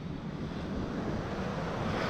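Steady ocean surf rolls onto a beach on the Outer Banks after sunset, a continuous broad wash of breaking waves with some wind rumble against the microphone and no voices.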